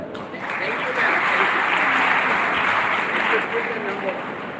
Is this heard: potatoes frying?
no